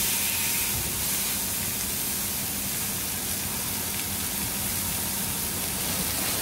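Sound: Jade Wagyu beef sizzling with salt

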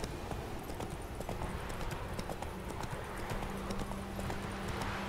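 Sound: horse galloping in the video game The Witcher 3

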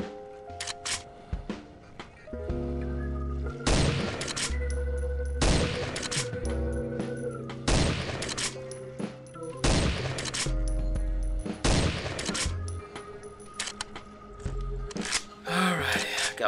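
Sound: gunfire from guns in the video game Pixel Gun 3D

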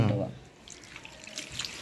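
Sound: water poured while soaking beetroot

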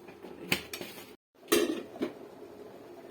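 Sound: covering a cooking pot with a lid

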